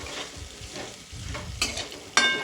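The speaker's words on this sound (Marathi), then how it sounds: "त्याच्यावर तयार केलेला मसाला घालायचा आणि हा मसाला सुद्धा परतवून घ्यायचा आहे" Chili peppers coated in masala sauté in a pan, giving a soft sizzle with scraping stirring strokes and a couple of sharper clinks near the end, close and moderately quiet with no speech.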